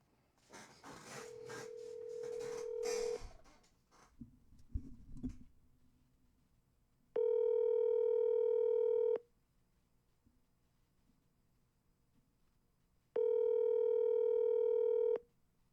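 A phone call being dialed: a long steady tone under a rustle, then two separate loud ringback tones of about two seconds each, spaced several seconds apart in near silence.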